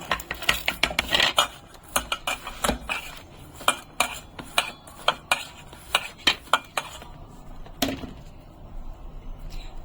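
Sattu flour mixed by hand with chopped coriander, sugar, salt and lemon in a bowl, a rapid run of clinking, tapping strokes against the dish, close and steady, thinning toward the end.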